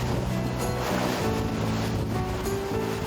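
Waves surge and wash against the rocky coast of a remote island in the open sea while a strong wind roars steadily, a loud, unbroken wash of surf and gusts with no voices.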